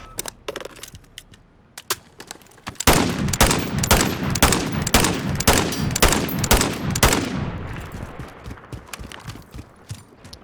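Rapid bursts of in-game gunfire from Call of Duty Modern Warfare with a FINN machine gun, a loud run of evenly spaced shots after a few scattered ones, tailing off into a fading echo.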